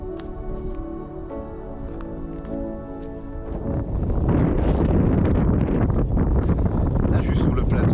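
Wind on a high plateau in Swedish Lapland during a long-distance hike, first a quieter tonal stretch, then from midway a loud, close, buffeting roar of wind across the microphone that persists to the end.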